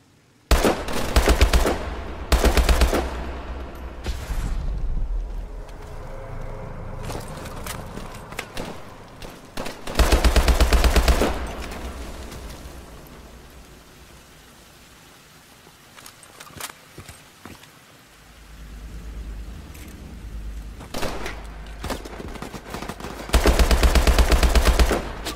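Bursts of automatic gunfire in Call of Duty Advanced Warfare, loud clustered volleys at the start, around the middle and at the end, separated by quieter stretches of movement and ambience.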